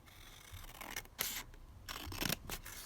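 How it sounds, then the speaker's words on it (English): Scissors cut out a paper journal card in a few quiet, crisp snips spread irregularly over a couple of seconds, with no talking. "just going to cut this one out"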